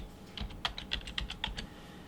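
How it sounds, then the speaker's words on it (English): A computer keyboard clatters as a short search word is typed in a quick run of about a dozen crisp, close keystrokes, with no voices. "We type in updates,"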